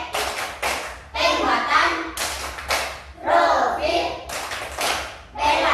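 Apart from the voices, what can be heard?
children clapping the tepuk pelima clap chant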